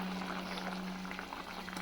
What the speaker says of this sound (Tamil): தண்ணி ஊற்றிட்டோம், நல்லா கொதிக்க வச்சிடணும்